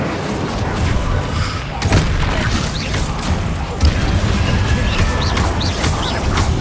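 Incendio fire spell cast in combat in Hogwarts Legacy: a dense layer of whooshing magic and game effects, with heavier booming crashes around two and four seconds, loud and continuous throughout.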